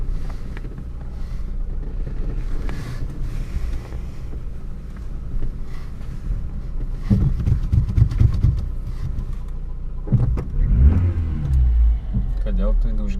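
A Subaru Justy climbing a hill, its engine a low labouring rumble with wind buffeting the microphone, revving harder in a couple of surges while people talk over it.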